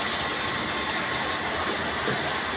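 Water pumped out through a one-inch pipe from a pump machine, giving a steady, loud, unbroken rush and gush that holds level throughout without pauses.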